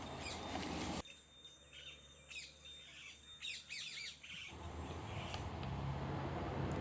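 Loud squawking bird calls ring out in repeated bursts by a village pond below the Western Ghats, over a steady outdoor background hum, with faint chirps and insect buzz around them.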